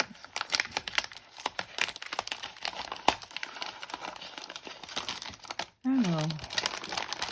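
Paper crinkles and rustles in repeated crisp bursts as mail is torn open and handled up close, with a voice speaking briefly near the end.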